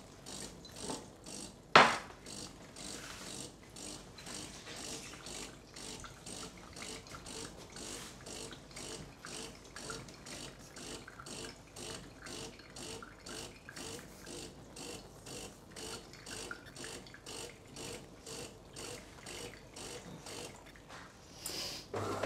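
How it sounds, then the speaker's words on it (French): A Guy Demarle Canofea coffee machine runs its rinse cycle, giving a close, steady rhythmic mechanical ratcheting and clicking that repeats for about twenty seconds after a single sharp click at the start. "Là, elle se met en route et ça va rincer."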